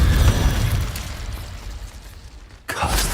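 Fire spells cast in the Hogwarts Legacy video game erupt in a booming, crackling blast that rumbles and fades, then a sharp new burst flares near the end.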